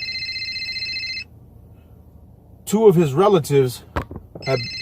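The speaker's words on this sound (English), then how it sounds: "somebody calling me on the phone" A telephone rings with an incoming call: a steady electronic two-tone ring sounds at the start, stops for a pause while someone speaks, then starts again at the end.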